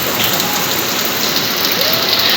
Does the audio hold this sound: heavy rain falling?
yes